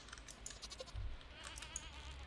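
A goat bleats in the Stardew Valley farming game, one short call midway over a soft, steady game ambience with distant rain and thunder sounds.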